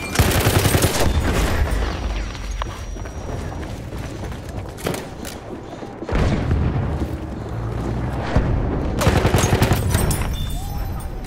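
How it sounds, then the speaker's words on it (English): Heavy machine gun fire from enemy positions in the video game Battlefield 1, sustained loud bursts with booming impacts and mechanical clatter, broken by a few brief lulls. "Feindliches MG da drüben."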